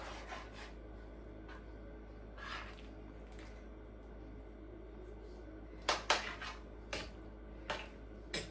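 Stirring dumplings in a cooking pot, soft scraping and clinking of a utensil against the pot, with a few sharper taps near the end over a faint steady background hum.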